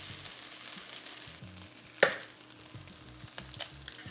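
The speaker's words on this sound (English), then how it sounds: "we're going to crack in and scramble an egg" A beaten egg scrambled in a hot pan for shrimp fried rice, giving steady soft sizzling and scraping with one sharp clack of a utensil partway through.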